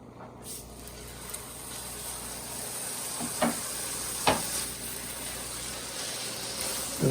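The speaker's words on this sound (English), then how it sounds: "Gonna brown it in butter." Top round steak browns in butter in a pan, a steady close sizzle broken by a few sharp spatula clinks and scrapes.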